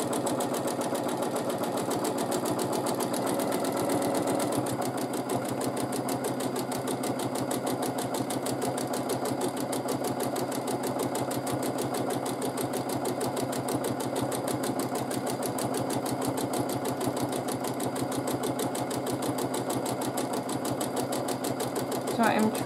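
A sewing machine runs continuously while free motion quilting an arch-style filler, its needle chattering in a fast, even rhythm close to the mic for the whole stretch, with a brief louder burst at the very end.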